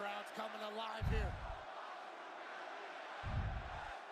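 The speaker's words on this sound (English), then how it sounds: "the crowd's coming alive here" A large arena crowd at WrestleMania 41 roars steadily, heard at a distance under an announcer's commentary, with two heavy thuds from the wrestling ring.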